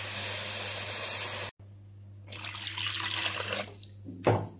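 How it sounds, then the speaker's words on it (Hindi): Water pours steadily from a tap into a pan holding sugar and green cardamom for gulab jamun syrup. The stream sounds loud and hissing, breaks off briefly, then resumes as a softer, uneven splash. "इसमें चीनी और ये सब्ज़ इलायची ऐड कर दें, साथ ही हम पानी ऐड कर देंगे"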